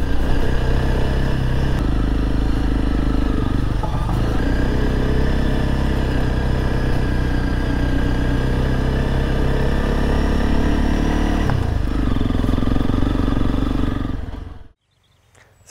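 A Honda CRF 300 Rally motorcycle on a road ride, its engine droning steadily and loud close up with some clatter, then cutting off abruptly near the end.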